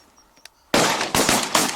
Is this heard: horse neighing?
no